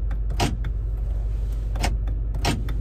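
A power door lock actuator on the replaced driver door of a Honda Element fires three times, making short sharp clunks spaced apart over a steady low hum.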